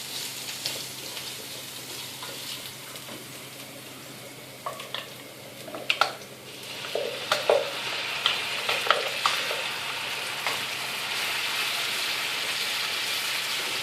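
Sauce is stirred into a sizzling mixture cooking in olive oil, a steady close frying hiss that grows busier, with scattered crackles and spatters as the stirring goes on.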